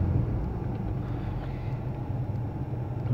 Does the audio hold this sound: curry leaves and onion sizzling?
no